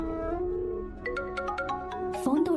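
A phone ringtone plays a short electronic melody of bright repeating tones, with voices talking underneath.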